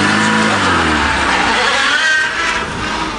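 A Peugeot 106 on a farm drives off with its engine revving hard, a loud close mid-pitched roar that climbs and then eases slightly toward the end, no voices.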